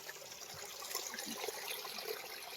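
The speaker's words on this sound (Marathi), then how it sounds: "डोंगर मात्यातून येतं हे पाणी" Steady natural spring water from a mountaintop trickles and splashes continuously, a broad hissing flow heard close by with no voices.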